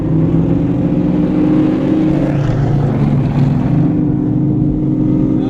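A 1970 Plymouth Barracuda with its exhaust dumps open roars loud and close, a steady deep rumbling engine note that swells slightly midway, with no talking over it.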